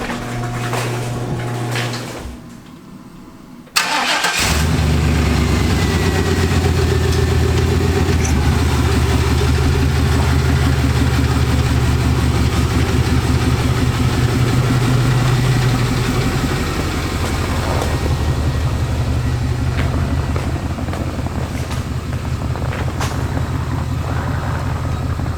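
A 1998 Chevy Silverado 2500 pickup with its muffler deleted idles loud and close, a deep rough throbbing exhaust that starts abruptly after a brief quieter moment and then runs steadily, with no talk over it.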